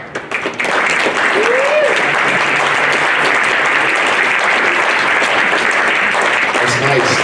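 An audience at a school fall sports meeting breaks into sustained, even applause as the fall coaches come forward, steady clapping filling the room from start to finish with no talk over it.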